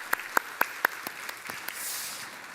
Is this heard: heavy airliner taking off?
no